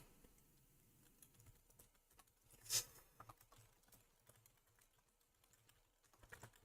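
Soft, irregular keyboard clicks tap away quietly on a computer keyboard, with one sharper louder keystroke or knock standing out midway.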